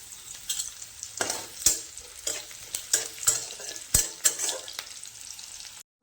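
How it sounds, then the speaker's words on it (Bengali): Green chilies sizzle in a pan while a spatula scrapes and clacks repeatedly in an uneven rhythm, close and fairly quiet. "আর কাঁচা লঙ্কাটা ভালোভাবে ভাজা হয়ে গেছে"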